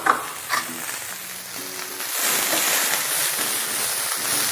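Chinese cabbage drops into a hot pan for Hakka noodles, opening with a couple of clattering knocks before a loud, steady sizzle of stir-frying takes over close by.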